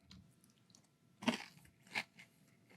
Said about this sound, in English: It's that kind of crunchy little pellets in my mouth as I'm chewing it.